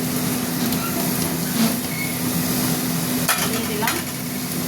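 Banana flower being added to a hot pan and fried with well-cooked spices for a prawn mochar ghonto, giving a steady close sizzle with stirring scrapes and no talk.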